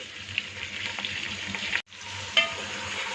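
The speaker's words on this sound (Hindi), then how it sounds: "और इसे फ्राई कर लेंगे।" Sliced onions and chicken frying in a pan over medium heat, giving a steady crackling sizzle with a brief silent gap partway through before the sizzling resumes.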